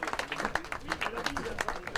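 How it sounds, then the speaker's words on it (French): Applause for the runner-up at a 2016 cycling race podium ceremony, a steady patter of clapping through the whole stretch, moderately near, with a voice over a loudspeaker talking on top. "Vos applaudissements pour Alexis Dulin"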